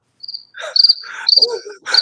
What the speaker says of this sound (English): I had to hit the crickets, man.